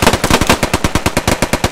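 Rapid automatic machine gun fire in the Post Scriptum World War II shooter game, a steady burst of evenly spaced loud shots rattling continuously with no pauses.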